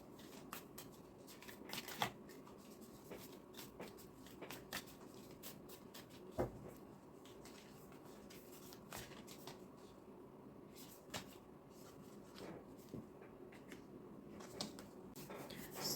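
Tarot cards are shuffled and drawn in a quiet room, giving soft, scattered papery flicks and taps at irregular intervals, close but faint, with no talking.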